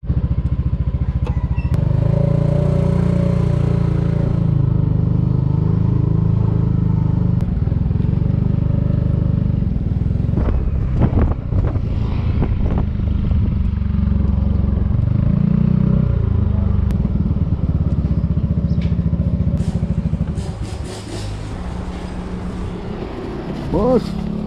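A Yamaha NMAX scooter engine runs steadily at a workshop service, a loud, close, continuous drone with clanks and thuds of work, while people talk over it.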